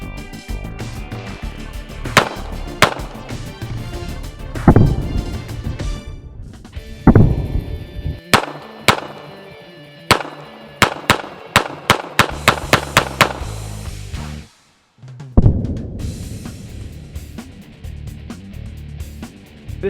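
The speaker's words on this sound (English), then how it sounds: "This Taurus 45 caliber with a polymer frame is a blast to shoot, has very little recoil" A Taurus PT845 .45 caliber polymer-frame semi-automatic pistol fires a string of sharp, loud shots outdoors, first spaced singly, then in quicker runs of closely spaced reports, each with a short echoing tail and a brief pause midway.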